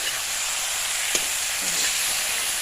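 Potatoes fry in a pan of oil for a pork curry, a steady close hiss of sizzling with a brief clink and scrape of stirring partway through.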